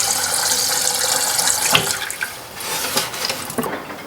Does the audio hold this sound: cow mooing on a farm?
no